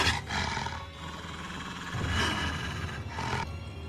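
Wolves growl and roar in bursts while attacking fishermen in Canadian woods, deep snarling cries coming close and loud in three or so surges with no talk.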